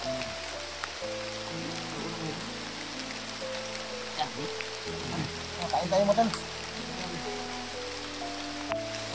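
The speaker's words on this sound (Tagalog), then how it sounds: "Ulan." Rain patters steadily on surfaces outdoors, a constant hiss under people talking nearby, with a few louder drip bursts midway.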